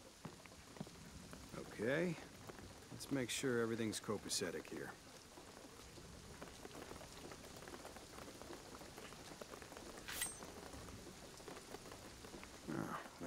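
Heavy rain in the video game Shadow of the Tomb Raider, a steady hissing patter that keeps on under voices talking in the foreground.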